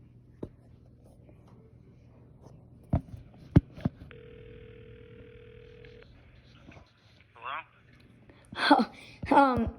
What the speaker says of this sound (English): I'm just calling you from the old rotary phone